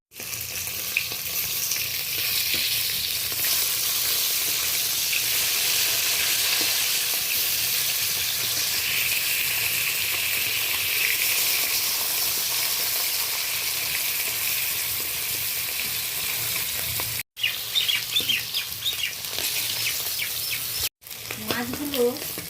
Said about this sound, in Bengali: মাছগুলো আমি ভেজে নেওয়ার জন্য দিয়ে দিলাম। একটু নাড়াচাড়া করে নিচ্ছি তেলের মধ্যে।